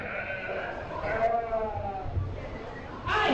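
A sheep bleats in a livestock area at the Barron County Fair, with a wavering cry standing out among nearby voices talking and general crowd bustle.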